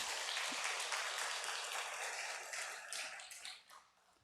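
A church congregation applauds during a sermon, a faint, distant wash of clapping that holds steadily and then thins out and fades near the end.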